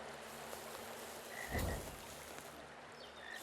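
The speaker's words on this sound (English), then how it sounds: "There's one loud frog there." A loud frog croaks in the Bavarian countryside of the Inspector Schmidt adventure game, a low burst swelling midway through amid soft outdoor ambience, with no voices.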